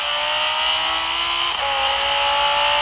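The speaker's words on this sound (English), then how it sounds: "this Audi R8, it doesn't really sound like an R8 to my perspective. It sounds more like a Lambo" An Audi R8 engine in the Forza Horizon 4 racing game drones loudly at a steady, high-revving pitch, with a brief dip in the middle before it holds on.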